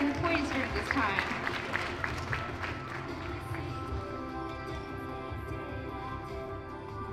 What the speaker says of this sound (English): Applause for her resilience and poise this time.